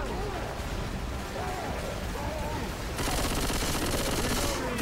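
Rapid gunfire from Left 4 Dead 2 during a Hard Rain rainstorm level near a witch, a dense continuous volley that grows louder and harsher partway through, with speech-like voices mixed into the game noise.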